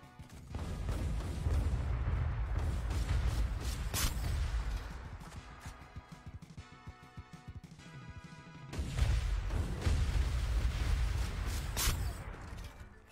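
Gunshots and explosions from the Super Mecha Champions mecha battle game, a loud continuous barrage of booming blasts and rapid crashing fire that eases briefly mid-clip before surging again.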